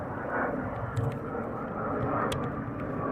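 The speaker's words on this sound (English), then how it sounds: "So coming over the top now, can hear it" Military jet passing overhead at RAF Lakenheath during surge operations, a broad steady distant roar lasting throughout, with faint voices in the background.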